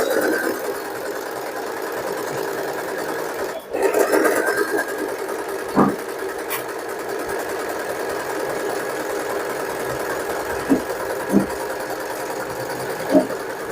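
A sewing machine stitches a black dress, giving a steady mechanical whir and hum throughout with a few soft clicks and knocks, close and alone with no talking.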